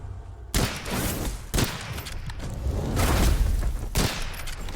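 Gunfire from the dark fantasy first-person shooter Witchfire: several loud, sharp shots spaced roughly a second apart, each a broadband crack with a booming tail, over a constant rumbling game ambience.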